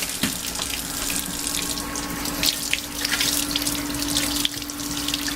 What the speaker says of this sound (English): you are to rinse the meat off with cold water, rather cool water